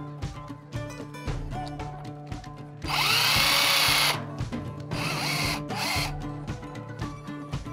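A power drill drives a screw into a plastic Hobie Mirage Passport 12.0 fishing kayak, giving two loud whirring bursts of a second or so, with mechanical clicks and handling noise before and between them.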